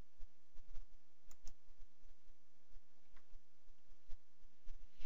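Mouse clicks in eRAD PACS radiology software, a sparse series of quiet, sharp clicks at irregular intervals over a low, steady hum.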